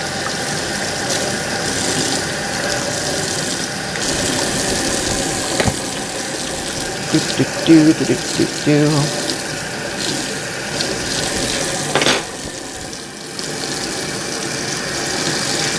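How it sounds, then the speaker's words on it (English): A kitchen tap runs continuously to rinse frosting out of a bowl, a steady loud splash with intermittent clinks and sloshes as the bowl is moved under the stream. "Let me rinse all of the frosting out this bowl."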